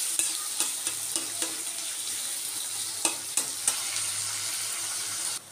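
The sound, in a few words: chopped onions frying in oil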